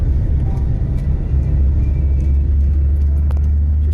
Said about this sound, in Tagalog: Ayun, ang traffic oh.